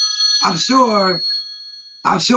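A mobile phone rings with steady electronic tones, while a voice talks over the ringing and keeps speaking after it stops.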